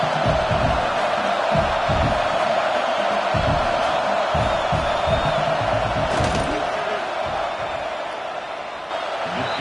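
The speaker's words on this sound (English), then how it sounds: "This crowd trying to do its part to get inside the kicker's head." A packed college football stadium crowd roars steadily before a field goal attempt, a dense continuous din with rhythmic stomping and shouting that eases slightly near the end.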